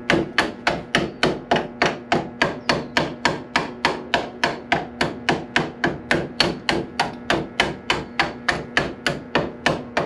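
Welding slag is chipped off a Harley Sportster rat rod rear brake lever, producing a fast, even series of sharp metallic taps, about three per second, loud and close with no talk.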